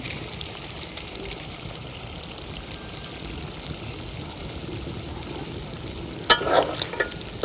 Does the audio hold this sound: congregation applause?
no